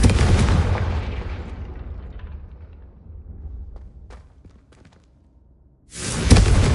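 A Confringo spell blast in Hogwarts Legacy erupts as a loud booming explosion that rumbles and fades over a few seconds, with scattered crackles, before another heavy burst hits near the end.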